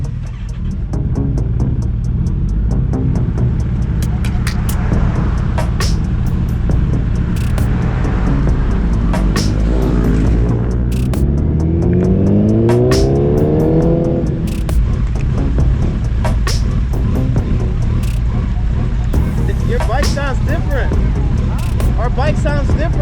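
A Kawasaki ZX14R motorcycle's engine at speed, a loud continuous roar with wind rumble, pitch climbing then settling as it accelerates, while riders talk over it.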